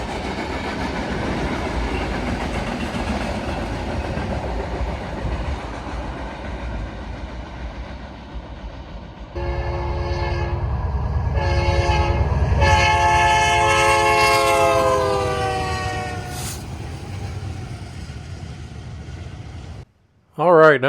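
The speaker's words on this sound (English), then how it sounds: "here's that westbound BNSF intermodal through Melrose, New Mexico" A westbound BNSF intermodal freight train led by four locomotives rumbles past at Melrose, New Mexico, its chime horn blaring in long, loud blasts over the heavy rolling roar, with a brief voice near the end.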